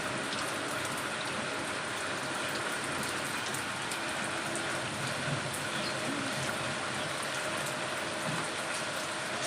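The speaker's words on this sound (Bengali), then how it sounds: "এখন বৃষ্টি শুরু হলো" Steady rain falling on a grey afternoon, a dense, even hiss of drops on surfaces that fills the whole stretch without pause, close and moderately loud, with no voices.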